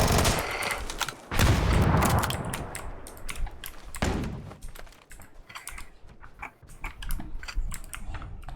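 A vehicle-mounted machine gun fires in a video game: a loud, dense opening burst, then sharper rapid cracks and scattered shots trailing off unevenly.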